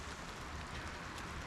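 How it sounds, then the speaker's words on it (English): Steady rain patters down during winter truck camping in a weather advisory, a soft, even hiss with no pauses, fairly faint and with no other sounds. "It was like little ice balls for a while, but yeah, just rain."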